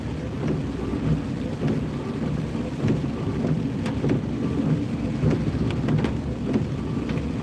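Steady rain pours throughout, with repeated low rumbles of thunder rolling underneath and a few sharper cracks, no voices.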